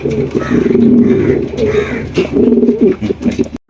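A Lahori pigeon coos repeatedly in low, throaty rolling calls, close by, with faint background noise.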